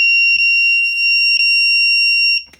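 A circuit-board buzzer on a Deer Run walking pad treadmill sounds one sustained, shrill electronic tone for over two seconds, with faint clicks underneath before it cuts off.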